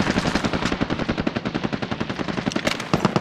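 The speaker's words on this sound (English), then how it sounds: "Taking fire here." Rapid automatic gunfire from a video game firefight, a dense steady stream of close, loud shots rattling on without pause for several seconds.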